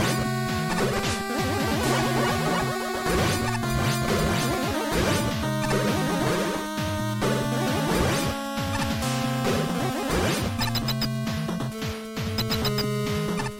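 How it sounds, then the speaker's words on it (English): Chaotic, loud game audio from Mega Man Maker as the Noise Crush weapon fires charged shots to destroy blocks, with repeated crashing impacts over a continuous layered chiptune background throughout. "We have to use the Noise Crush's charge properties in order to destroy the blocks here."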